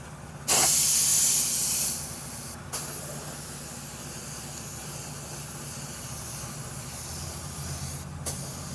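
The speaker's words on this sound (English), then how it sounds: "And we'll just go ahead and cover all that with clear coat." Clear coat sprayed onto a repaired Toyota Corolla wheel: a loud, close hiss of spray lasting about a second and a half, followed by a softer, steady hissy background with a few brief bursts.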